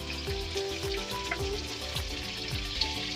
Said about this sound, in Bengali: আমি একটু নুন দিয়ে আলুটা ভেজে নিচ্ছি।